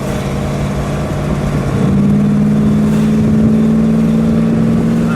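A 1960 Plymouth Fury convertible's engine accelerates up a hill, a deep, throaty rumble that rises in pitch and grows louder after the first couple of seconds, heard close from inside the car with no talk.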